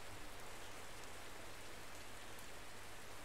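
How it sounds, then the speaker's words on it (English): Rain pours steadily outside, a soft, even wash of patter with no voices and no change in intensity. "Hope y'all like the sound of rain."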